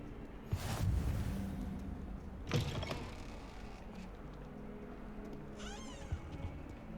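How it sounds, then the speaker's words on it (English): Cat meowing in the Hogwarts Legacy video game, a few short meows spread across several seconds with quiet game ambience and a creaky mechanical sound near the end, fairly faint. "There's another cat."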